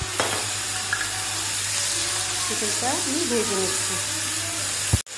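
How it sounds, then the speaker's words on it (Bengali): Chicken fries in hot oil with a steady, dense sizzle throughout, close and fairly loud, with a faint clink near the start and a sharp knock at the end. "তেল দিয়ে আমি চিকেনটা ভেজে নিচ্ছি"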